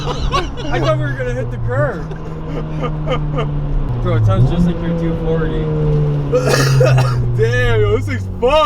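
Turbocharged Honda Civic engine pulling hard on a dyno, a loud sustained drone that climbs steadily in pitch, dips briefly at a shift around four seconds, then keeps rising while people talk and shout over it.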